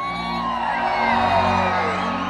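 A large crowd at a night event of the Expoeste rural expo in Pontes e Lacerda roars and whoops loudly together, a dense sustained wall of shouting that fills the whole stretch without a break.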